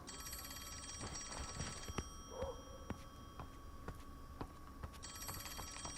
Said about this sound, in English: you could hear a phone